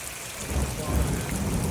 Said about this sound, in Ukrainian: Зараз дощ у нас тут такий.